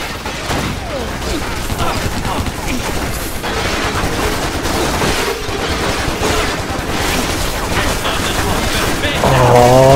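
Dense video-game gunfire in Stranglehold, continuous bursts and shots with rattling impacts filling the whole stretch, mixed with game sound and music, growing slightly louder at the end.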